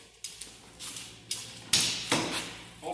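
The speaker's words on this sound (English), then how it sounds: "open the back door of the ambulance." An ambulance's back door clunks and rattles open, with a few metallic knocks and latch clicks in quick succession, fairly close and moderately loud.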